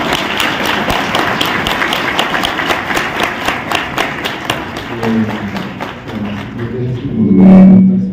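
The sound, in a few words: audience applause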